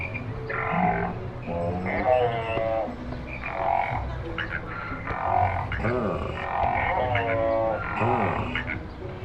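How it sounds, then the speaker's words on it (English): Animatronic frogs sing from lily pads at the Shrek Swamp play area, a row of rhythmic, musical croaks that repeat in short bursts over a steady murmur of crowd noise. "you can jump on these lily pads and the frogs will sing for you"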